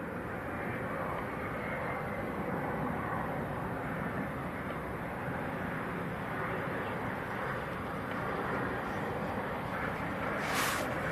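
A PC-24 business jet from Geneva produces a steady, broad engine roar, far off and even throughout, with a brief higher tonal whine near the end.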